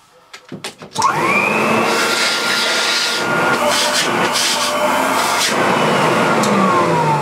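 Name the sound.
600 watt vacuum cleaner motor running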